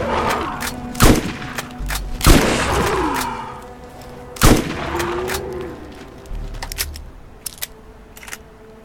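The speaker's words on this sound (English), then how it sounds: "I don't know why I'm using this fucking shotgun" Shotgun blasts in Borderlands, several loud, widely spaced booming shots with short gaps between them, followed by fainter clicks and smaller pops.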